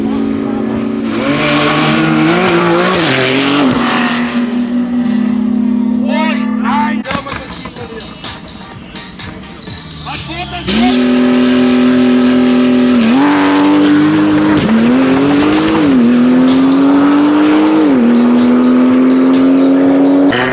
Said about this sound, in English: CPI Tuned Audi Rs3 up in the left lane, BMW in the right lane.